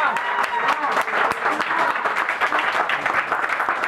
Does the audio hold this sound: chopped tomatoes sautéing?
no